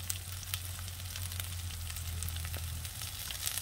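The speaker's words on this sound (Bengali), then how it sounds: "এবার সব একসাথে কিন্তু আমি কষিয়ে নেবো ভালো করে" Ground coriander and cumin with green chilli sautéing in a pan for a Rupchanda fish curry, a constant close sizzle with scattered crackles and a low steady hum underneath.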